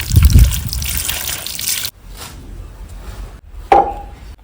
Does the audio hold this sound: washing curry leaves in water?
yes